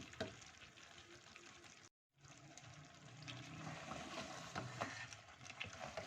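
Potato bhujia (aloo ki bhujia) cooking in oil or ghee in a pan, a continuous hissing sizzle with faint stirring, interrupted by a brief silent gap before resuming, no talking.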